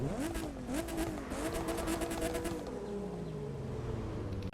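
Nissan Fairlady Z 432 (PS30) in The Crew 2, its engine revving up through several climbing pitch sweeps and then easing down to a lower drone, fairly faint and heard alone.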